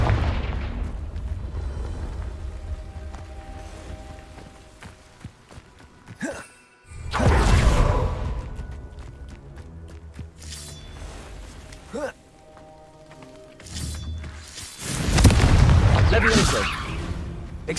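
Spell explosions from Confringo are cast in the Hogwarts Legacy video game, with two loud booming blasts, the second louder, amid game ambience and a voice shouting the incantation.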